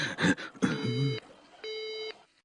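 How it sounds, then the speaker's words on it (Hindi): A cartoon telephone gives a disconnected tone, steady electronic beeps heard after a short burst of speech, with two sustained tones separated by a brief gap. "आपका फोन डिस्कनेक्ट हो गया।"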